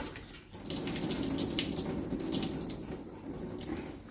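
Water splashes and trickles steadily as a soaked towel is twisted and wrung out, a continuous wet pattering close up.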